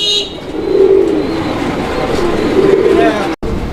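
Pigeons, including chicks, at a pigeon seller's collection coo in low, repeated throaty calls close by, with a steady background murmur and a brief faint chirp early on.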